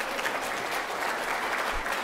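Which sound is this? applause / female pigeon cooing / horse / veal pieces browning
applause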